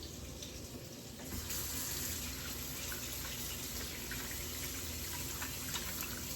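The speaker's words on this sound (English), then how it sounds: "Now, let me wash my hands." Hands are washed under a running kitchen tap mid-way through cooking a ground turkey dish, a steady, close splash of water that grows fuller after the first second and keeps flowing with no talk.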